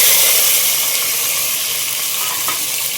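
Green chillies, onions and tomato tipped into a hot pan for pumpkin biryani, giving a loud, even frying hiss that fills the whole moment up close, with faint stirring scrapes underneath and no voices.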